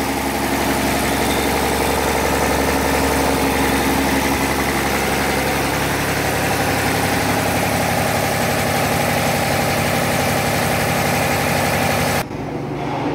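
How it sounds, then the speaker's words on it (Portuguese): A VW Brasília engine idles steadily and loudly close by, a continuous even rumble with a constant hum, cutting off sharply near the end. "O motor tá estável."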